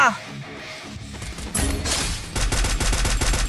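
Rapid gunfire in the Free Fire battle game cracks out in loud bursts, turning into dense, rhythmic automatic fire toward the end over a steady game background.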